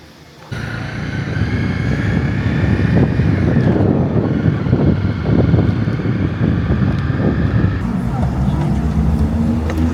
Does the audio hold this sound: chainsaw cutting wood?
no